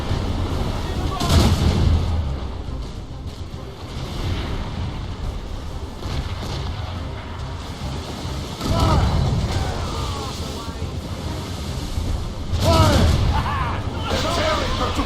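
Ship cannons firing in the video game Assassin's Creed Rogue during a naval battle, loud booming volleys in repeated bursts, with shouted voices and battle noise between them.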